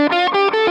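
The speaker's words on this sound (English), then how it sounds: "I'm going to stack my overdrive with a fuzz booster that I got." Electric guitar through a stacked overdrive and fuzz booster plays three short, heavily saturated notes in quick succession, thick and buzzy with rich harmonics, loud and alone.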